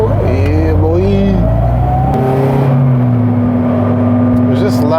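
Boosted Honda Civic FG2 revving hard in daily traffic, engine pitch sweeping up through the gears with a raspy exhaust note, loud and close, then settling to a steady drone as a voice talks over it.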